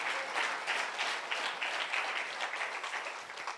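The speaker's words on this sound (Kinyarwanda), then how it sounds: "Amashyi menshi ku mwami Yesu." A church congregation at a Rwandan sermon breaks into loud, dense applause, steady clapping from many hands with no talk over it.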